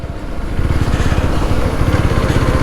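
Motorcycle engine running on a road trip near Mymensingh, a loud, close, steady rumbling throb lasting throughout, with no talking.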